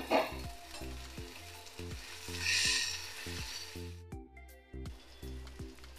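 Green chillies fry in a hot pan with onions, giving a steady crackling sizzle punctuated by rhythmic stirring and scraping knocks, fairly close with no talking.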